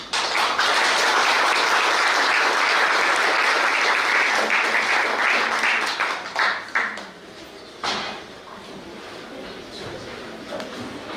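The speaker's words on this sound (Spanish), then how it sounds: "un fuerte voto de aplausos" Full, loud audience applause after a lecture on Peruvian judicial reform by Dr. Carlos Arias, sustained for several seconds before thinning into scattered claps and fading out.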